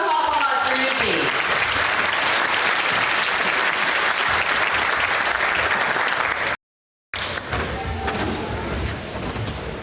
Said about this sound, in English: let's give a round of applause for Eugene